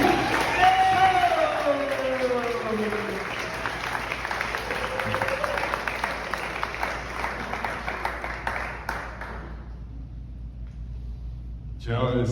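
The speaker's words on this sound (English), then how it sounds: "Let's give a big round of applause for Tony." Audience applause for a speaker at a Miami business event rises as a steady wash of clapping under a voice, then fades away to near silence.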